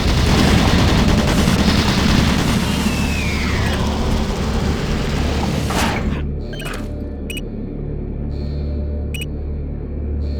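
Automated turret guns in the game Doom 3 fire in a long, loud sustained burst of rapid shots that cuts off sharply partway through, followed by a few isolated clicks and bangs over a low mechanical hum.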